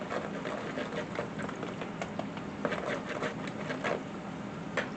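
Meat-filled fried pies sizzle in hot oil in a pan, a steady close crackle with scattered pops and spits running evenly throughout, no voices.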